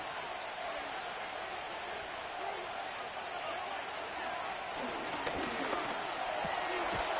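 Virtual stadium crowd in the Madden 25 football game roars continuously with a dense, steady swell of cheering, loud and constant throughout, with a few faint thumps near the end.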